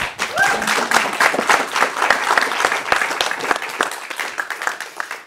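Panel audience at a Keti Koti cultural programme in Utrecht claps for several seconds, individual hand claps crisp and close, fading slightly toward the end.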